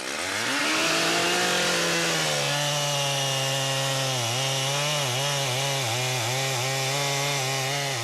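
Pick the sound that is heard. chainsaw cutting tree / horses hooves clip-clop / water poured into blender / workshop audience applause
chainsaw cutting tree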